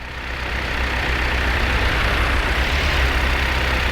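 An old vehicle engine runs in Workers & Resources: Soviet Republic, a loud, steady, rough rumble with dense broadband noise and no voices over it.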